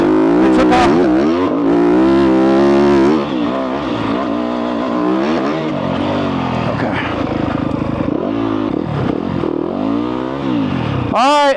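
Dirt bike on a trail at Rampart Range, Colorado, revving hard as it accelerates, with the engine note rising and falling through repeated throttle bursts, loud and close throughout.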